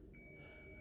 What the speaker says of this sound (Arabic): عندنا بيب كأنما شورت عندنا